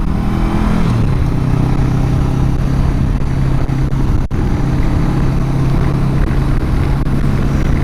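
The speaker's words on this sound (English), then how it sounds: "This is riding my Goldwing." Honda Goldwing motorcycle cruising along a road near Long Beach, a steady loud engine drone with wind rush throughout, a low humming tone that shifts slightly early on, no talking.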